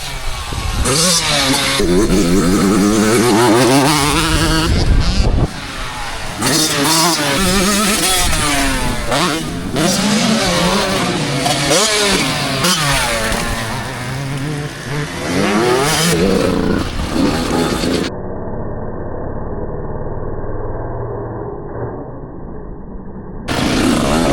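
Yamaha YZ motorcycles race at a club round, engines loud and close, revving and shifting up and down in rising and falling whines, with the sound turning muffled and thinner near the end.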